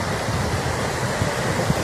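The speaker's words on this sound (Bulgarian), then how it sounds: "Ето го водопада." Steady roaring wash of a waterfall pouring down beside the sea in Antalya, a dense continuous rush with a low rumbling undertone, close and unbroken for the whole stretch.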